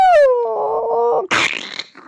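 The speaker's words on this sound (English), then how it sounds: "And he howls in pain." A creature in pain in a tabletop RPG lets out a long, loud, tonal howl that bends downward and wavers, followed by a harsh, noisy snarl and a few short rough bursts near the end.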